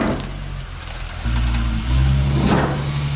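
A car towing a US-spec VW Jetta wagon gives a steady, close engine hum that steps up in pitch and level partway through as it pulls away, with no talking over it.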